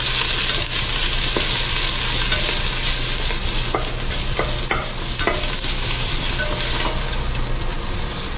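Onions sauté in a very hot pot for a cauliflower and spinach curry, giving a loud, steady sizzle with occasional stirring clinks and no talk.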